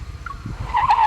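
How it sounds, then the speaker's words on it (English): In a video game, a car brakes hard to a stop with a short tire squeal and skid that rises sharply near the end of the brief burst, over a low engine rumble. "I slam on the brakes and come to a stop"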